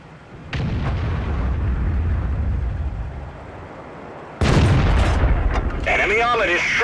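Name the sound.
tank cannon fire and explosions in the video game World of Tanks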